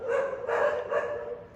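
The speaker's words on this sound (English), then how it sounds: "she barks like this only" A pet dog barks three times in quick succession, fairly close and moderately loud, with no talking over it.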